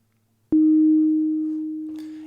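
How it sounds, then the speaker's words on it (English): A single sustained tone from an Ableton Operator synth, played over an ambient drone built from a rain recording, enters abruptly and holds steady while slowly fading, with a faint low drone underneath. "Another thing I like to do is just put a synth over it and just improvise."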